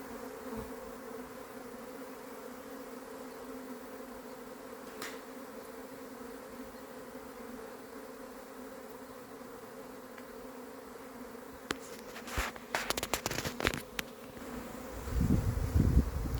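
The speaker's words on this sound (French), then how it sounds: "C'est dingue la quantité d'abeilles." A swarm of honeybees shaken from a tree branch into a cardboard box gives off a continuous, faint buzzing drone. Near the end, bursts of rustling and knocking break in as the branch is handled.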